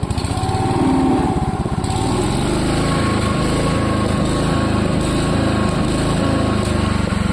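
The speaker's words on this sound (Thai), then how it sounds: "เร่งเครื่องครับ" The small engine of a remote-control lawn mower with a stainless steel frame drones loudly and steadily, its pitch rising as it revs up close by.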